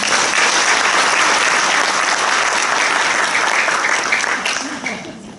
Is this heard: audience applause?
yes